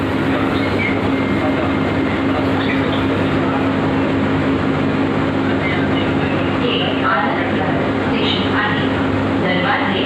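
A metro train pulls into the next station, its steady loud rumble and rolling rail noise filling the carriage from start to finish, with faint voices mixed underneath.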